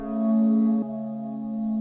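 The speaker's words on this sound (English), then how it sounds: "you want to put a little bit of fast distortion on it" A dark trap loop run through a fast distortion effect: a sustained, buzzy, harmonically rich synth tone that holds steady, briefly dips, then carries on, loud and alone with no talking.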